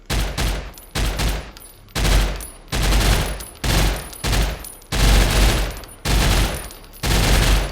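Gunfire from a weapon in a shooting video game: a steady series of about ten loud, close bursts, each roughly half a second long with short gaps between, heard alone without talk.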